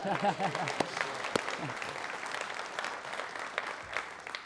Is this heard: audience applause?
yes